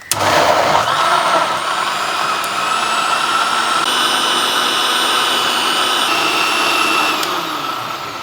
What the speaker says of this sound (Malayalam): വേഗം മിക്സീൻ്റെ ജാർ അടയ്ക്കാം നന്നായിട്ട് അങ്ങോട്ട് അടിച്ചടിച്ച് പതപ്പിച്ചെടുക്കാം